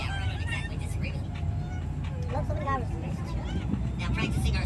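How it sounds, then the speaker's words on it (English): Road traffic on the Bronx River Parkway rumbles in the background as a continuous low drone beneath a voice speaking close by, heard from a zoo monorail. "but that noise you hear behind the train right now is traffic on the Bronx"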